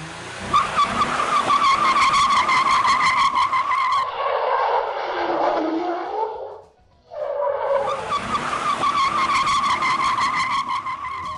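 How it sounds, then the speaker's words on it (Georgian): A car drifting on a street, its tires burning, squeals loudly and continuously in two long skidding bursts separated by a short dip, with engine noise and no talk. "საბურავი დაიწვა."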